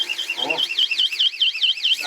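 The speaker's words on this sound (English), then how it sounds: "That's the alarm." A screamer alarm blares with a loud, rapidly warbling electronic shriek that pulses steadily throughout, with a brief voice near the start.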